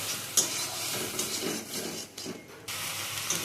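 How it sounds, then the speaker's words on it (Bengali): Spice paste for an egg curry, loosened with a little water in a wok, hisses and sputters steadily while a spoon stirs through it with soft scraping strokes. The sizzle dips briefly midway, then picks up again. "জল দিয়ে আবারও আমরা মশলাটাকে কষাতে থাকবো।"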